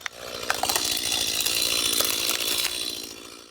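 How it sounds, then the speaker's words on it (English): A Stihl chainsaw with newly replaced bar, chain, spark plug and filters runs loud and close in snowy Alaskan wilderness, its engine revving steadily and then easing off at the end. "this chainsaw is running like it should once again"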